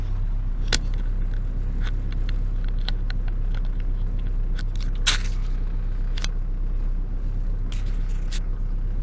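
A Morris Minor fitted with an unleaded head drives along on a petrol run, giving a loud, constant low engine drone and road rumble with scattered rattles and ticks from inside the car.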